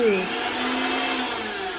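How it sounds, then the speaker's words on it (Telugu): A kitchen mixer grinder runs briefly, giving a close, steady motor whir with a rising whine at the start. "నువ్వు అసలు మిక్సీ తిరగలేదని చెప్పావు కదండి."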